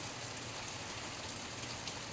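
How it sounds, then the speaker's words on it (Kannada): Heavy rain pouring outside a kitchen window, a dense, steady hiss with no pauses, close and even throughout. "ಮಳೆ ಸುರಿತಾ ಇದೆ"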